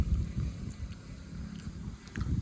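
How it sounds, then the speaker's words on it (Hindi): Cool wind blows over open farm fields under a cloudy sky, a steady low rumble of gusts buffeting the microphone with no voices. "ठंडी ठंडी हवा चल रही।"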